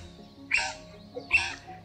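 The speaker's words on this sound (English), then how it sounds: "we are hearing some crimson rosellas in the background" Two sharp, bright calls from crimson rosellas in Australia, spaced under a second apart, fairly close and alone over a quiet background.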